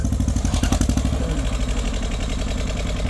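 A Champ 304 farm tractor pushes soil to fill ground for a house, its engine chugging in a steady, loud, pulsing rhythm with some clatter, close to the microphone.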